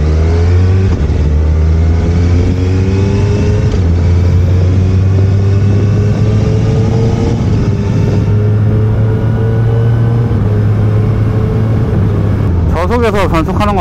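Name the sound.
Suzuki Hayabusa motorcycle shifting gears at low speed with quickshifter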